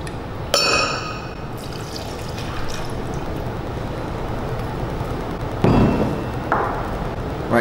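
Bourbon pours into a metal measuring jigger to two ounces for a cocktail, a close liquid trickle with a sharp clink at the start and another glassy knock near the end.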